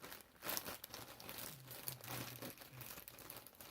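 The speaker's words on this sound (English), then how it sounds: "So excuse the scritching of the plastic bag." A plastic bag crinkles and scritches close by in a quiet room, in soft irregular rustles and crackles with a brief louder crunch near the start.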